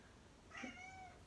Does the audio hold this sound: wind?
no